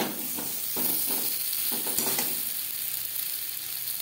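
Spices fry in oil in a pan for an egg and potato curry, a steady sizzle broken by several scraping stirs of a spatula in the first couple of seconds, close and alone.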